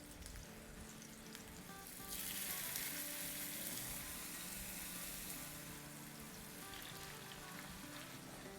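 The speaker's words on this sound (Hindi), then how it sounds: "देखिए, ये जब तक फ्राई हो रहे हैं" Chicken burger patties sizzle steadily in a hot pan, a dense crackling hiss that swells louder for a few seconds before settling back to a constant fry, with no voices over it.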